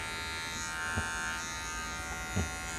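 A Wahl Magic Clip V5500 electric hair clipper runs steadily, giving a continuous close, loud motor buzz with a couple of brief handling knocks and no one talking.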